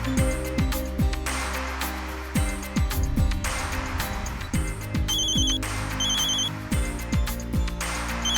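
A telephone rings on and on without being answered, its repeated electronic trill returning in bursts beneath a busy musical score, fairly loud and close.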